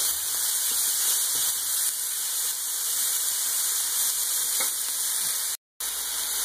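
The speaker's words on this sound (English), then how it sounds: "next you want to brown your onions and your garlic a little bit" Chopped onions and garlic browning in olive oil in a home kitchen pan, a steady even sizzling hiss that continues unbroken at moderate loudness, cut by one brief gap of silence near the end.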